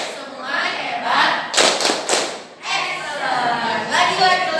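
A school class performs a rhythmic clapping chant, with loud group claps in sharp bursts between stretches of children chanting together, close and lively.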